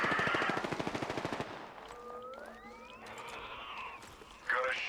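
Apex Legends gunfire opens with a fast, loud burst of rapid shots lasting about a second and a half, followed by quieter game effects and whooshing tones.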